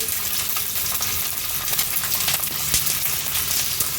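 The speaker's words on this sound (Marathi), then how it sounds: "आणि लसूण आणि मिरची छान आपण परतून घेऊया" Green chillies and garlic cloves frying in oil over a high flame, a dense crackling sizzle with frequent small pops and stirring scrapes, close and steady throughout, with nobody talking.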